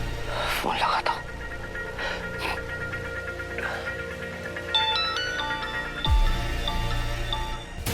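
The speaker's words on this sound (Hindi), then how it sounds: "स्वीटी, मामा, फोन लगाता हूँ" A phone's electronic ringtone chimes repeatedly in the latter half, over soft murmuring voices and background noise.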